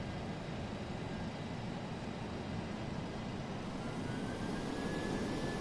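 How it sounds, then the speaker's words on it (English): Jet engines of a DC-8-73F freighter in Flight Simulator X whine and roar steadily throughout, a loud continuous broadband drone with a rising tone near the end, no voices. "That's my beef with the plane, is those engines spooling up like that"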